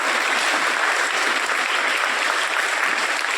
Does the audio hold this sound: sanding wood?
no